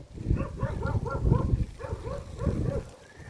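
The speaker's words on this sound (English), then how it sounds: "dogs sound in the background" Dogs bark in the background outdoors on a sunny day, a series of repeated barks in two bursts, moderately loud and somewhat distant.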